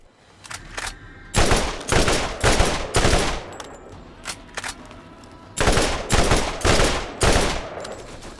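Video game gunfire unloaded on a boss: sustained automatic bursts, loud and close, in several long volleys separated by short pauses, with scattered single shots between them.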